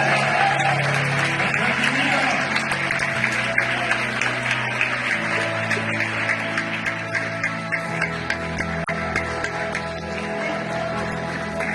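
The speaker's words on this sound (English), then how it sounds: "Give yourselves a big round of applause." A crowd at an International Women's Day event at the Welsh Parliament gives a long, full round of applause after a group song, dense and sustained with a low murmur of voices beneath.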